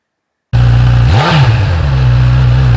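A Honda CB1000R motorcycle fitted with an Akrapovic titanium slip-on exhaust starts up loud and close, settling into a deep steady idle with one quick rev that rises and falls midway.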